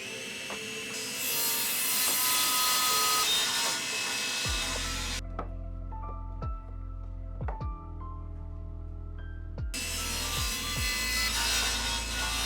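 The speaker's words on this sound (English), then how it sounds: "You're supposed to do this with what's called a miter saw, but I don't have one set up right now, so I'm just going to use the table saw" A table saw rips through a wooden board in a workshop. A loud, steady whine of the blade is broken by the buzzing rasp of the cut, then the motor spins down through a lower hum before starting up again.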